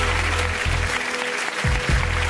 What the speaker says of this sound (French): Applaudissements pour Sacha Judasco